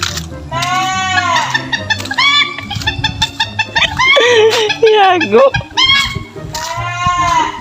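Goats bleat repeatedly and loudly up close, quavering cries in short bursts mixed with people laughing and chattering nearby.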